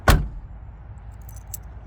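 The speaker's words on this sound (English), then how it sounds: "you can hear the doors close nice and tight." A single solid thunk of a 1969 Pontiac Firebird convertible's door shutting at the start, followed by quiet background and a few faint light clicks.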